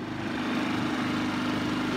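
A 6 horsepower outboard motor drives a small boat tender, a steady, loud engine drone with a low buzzing hum running evenly throughout and no talk over it.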